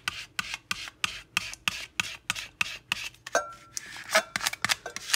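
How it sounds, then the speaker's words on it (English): Scraper tool burnishing a vinyl decal onto a bowl, a run of sharp rhythmic rubbing strokes about twice a second, close and fairly quiet, becoming more irregular toward the end. "use my scraper tool to burnish it on there"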